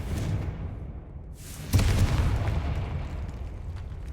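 A Confringo spell detonates in Hogwarts Legacy, a sudden loud fiery blast that rolls into a sustained rumbling roar over low game ambience.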